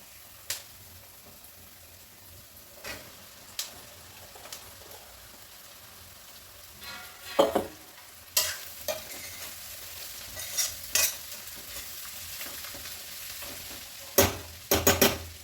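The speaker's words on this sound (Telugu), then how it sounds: "ఇప్పుడు క్యాబేజ్ వేసుకుందాము" Shredded cabbage frying in a pan for an Indian curry with chana dal and fenugreek leaves, a soft steady sizzle with intermittent scraping stirs of a spoon, close and quiet, no talk.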